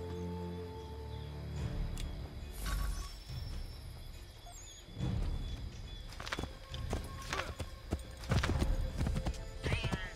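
Horse galloping hoofbeats in Assassin's Creed III Remastered, a steady clip-clop rhythm with whinnies and neighs, moderately loud under game music and ambience.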